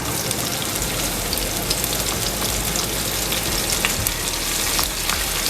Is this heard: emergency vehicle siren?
no